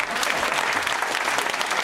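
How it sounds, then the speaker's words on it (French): Steady audience applause after a performance at a Breton wedding celebration, a dense continuous clatter of many hands clapping at even loudness throughout with no pauses. "je crois qu'il faut les applaudir parce qu'elles ont eu la trouille de venir"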